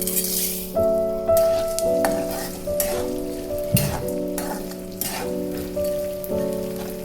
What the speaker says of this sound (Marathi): थोडं वाढवूया म्हणजे आपण डिंक चांगला तळून